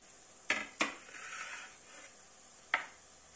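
Peanuts are dry-roasted in a pan for curry leaf chutney, with a few sharp clinks of a spoon against the pan and a faint rattle of stirring, close and quiet with no talk.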